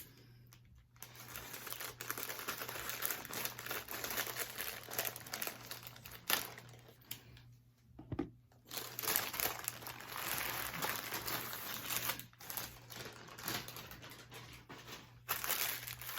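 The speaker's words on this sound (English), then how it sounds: "it always comes wrapped really cute in like a little tissue paper with their little sticker" Tissue paper wrapping with a sticker is unwrapped from a subscription lingerie package, giving close, loud crinkling and rustling that continues in bursts with brief pauses throughout.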